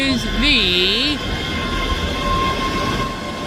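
ScotRail train departing Edinburgh Haymarket station, a steady loud rumble of rail traffic with a short horn-like tone near the start and a continuous mechanical drone throughout.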